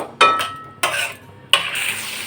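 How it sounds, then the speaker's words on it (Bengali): Potatoes sautéed with spices and a splash of water in a pan, heard as three separate bursts of scraping and clattering against the pan, each fading into a soft sizzle, close by with no talk. "আলুগুলোকে খুব ভালোভাবে মশলার সাথে কষিয়ে নিচ্ছি"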